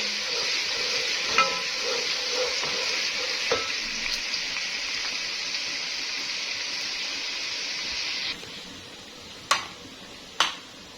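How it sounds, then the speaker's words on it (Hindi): Crushed ginger and garlic sizzle steadily in hot oil for haleem, a loud continuous frying hiss with a few stirring clinks. The sizzle drops quieter near the end, followed by two sharp utensil knocks. "इसको अच्छे से हम भूनेंगे।"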